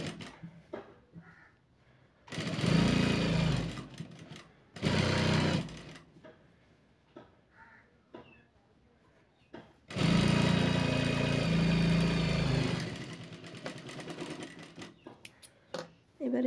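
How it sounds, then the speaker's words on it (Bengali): A sewing machine stitches a blouse in three loud, rapid mechanical bursts of whirring needle clatter, separated by quieter pauses with soft handling noises. "এবার এখানে একটা চাপ সেলাই দিয়ে নেব।"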